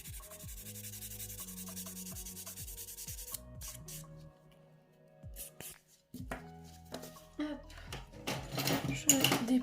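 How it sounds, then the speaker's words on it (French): A nail buffer rubs across a nail on a Tgirl practice hand in quick, fairly faint scrubbing strokes, followed by louder handling clatter near the end. "je vais passer un petit coup de buffer"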